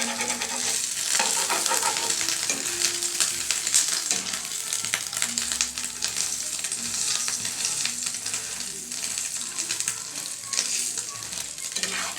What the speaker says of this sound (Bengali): এখন আমি ডিমটা ভেজে নেব।